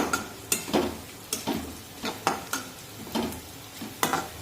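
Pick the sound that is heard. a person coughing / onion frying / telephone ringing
onion frying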